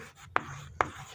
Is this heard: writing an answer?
yes